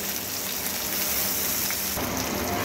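Dried chili, black cumin, chopped onion and grated garlic tempering in hot oil for a Bengali curry, giving a steady close sizzle and crackle throughout that brightens near the end, with no talking.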